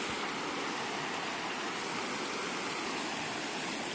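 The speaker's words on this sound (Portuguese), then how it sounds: "Rio enchendo, Rio Pandeiros enchendo." Steady broadband rush of the Pandeiros river running high and rising, a dense continuous roar of flowing water in a natural pool setting, close and unbroken with no voices.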